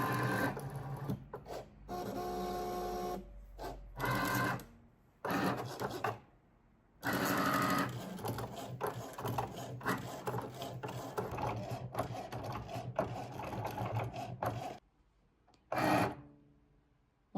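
A Cricut cutting machine runs a cut on a project loaded on its mat, giving a steady mechanical whirring and buzzing in bursts, with short pauses and changes in pitch as the carriage moves, loud and close.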